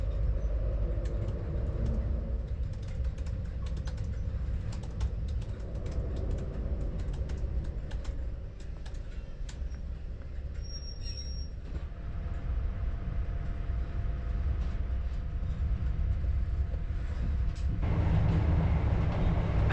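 Inside an Inter7City HST running toward Perth, a steady low rumble of the train on the line continues throughout, with scattered clicks and rattles and a louder surge near the end.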